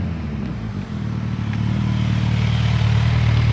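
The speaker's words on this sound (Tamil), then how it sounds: "தூரத்தில் வண்டி சவுண்டு கேட்குது" A Suzuki Hayabusa superbike engine approaching, a low steady drone that grows gradually louder and nearer through the clip.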